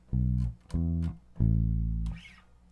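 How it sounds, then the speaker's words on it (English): A bass guitar plays a 2-5-1 progression in A as three held notes, each struck and left to ring deep and round, with a short pause between them and a faint click at the end. "251 in A would sound like this."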